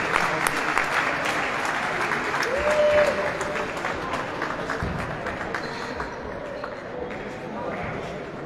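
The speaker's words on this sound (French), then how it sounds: "Allez, on applaudit." An arena crowd applauds at an ice hockey match between the Grizzlys and Longwy: sustained, dense clapping close by that slowly fades, with voices mixed in.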